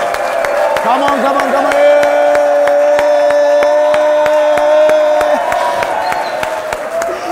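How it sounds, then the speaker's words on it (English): A crowd claps and cheers in a steady burst while a voice calls out over them, with a sustained musical tone running underneath. "Let's clap for her, ladies and gentlemen."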